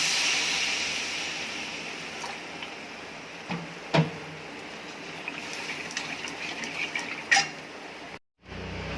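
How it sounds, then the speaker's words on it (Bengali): Water poured into a pan of fried spice paste, glistening with released oil, for a fish curry: a steady broad rushing hiss throughout, with a few brief sharper splashes and clinks, and a short break near the end. "মশলা কষা হয়ে গেছে, আর একটু তেল ছেড়ে দিয়েছে মশলাতে। এবার আমি জল দিই।"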